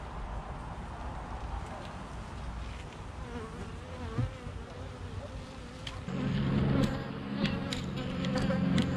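Honeybees buzz steadily around an open blue hive during an early-September inspection while the colony is capping honey, a close, continuous drone that swells louder near the end, with a person speaking briefly.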